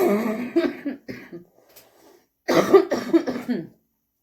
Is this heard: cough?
yes